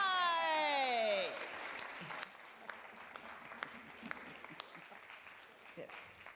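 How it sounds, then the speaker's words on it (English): A studio audience at a Price is Right taping bursts into loud applause after a rising musical sting, then the clapping thins into scattered claps and cheers. "That's right, they're just applauding."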